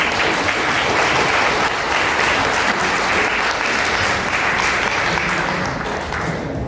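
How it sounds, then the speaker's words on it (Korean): Wedding guests at a ceremony without an officiant applaud the couple with loud, full, sustained clapping from a large crowd that holds steady throughout and eases off slightly at the very end. "두 사람께 뜨거운 박수 부탁드리겠습니다"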